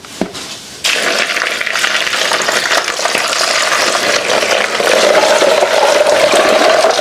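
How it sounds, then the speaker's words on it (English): Water is poured steadily onto ice for a pitcher of ice water, a loud continuous rushing splash close by after a brief knock, running without pause to the end with no talk. "Now we add on the water."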